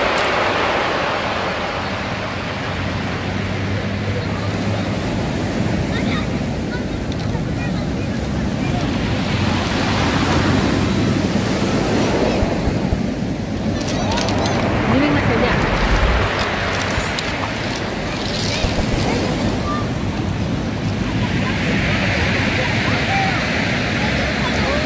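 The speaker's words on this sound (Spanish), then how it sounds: "Hace bulla el mar." Loud surf breaking on a beach of large and small stones on the Peruvian coast, a constant roaring wash with heavy wind buffeting the microphone and swells rising and falling throughout.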